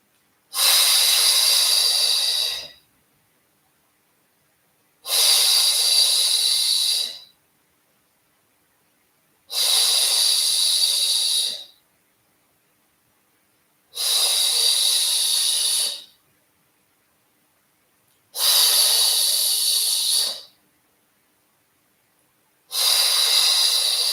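Forceful rhythmic breaths during a Pilates body-toning exercise, six long airy bursts about two seconds each with short silent gaps, steady and evenly paced, close and fairly loud with no talking.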